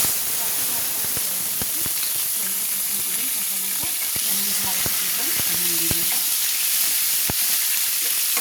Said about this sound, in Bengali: আমি নেড়ে নিচ্ছি ভালো করে।